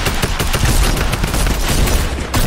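Rapid gunfire in a Fortnite battle royale match, dense bursts of overlapping shots at steady loudness throughout, with one short lull near the end.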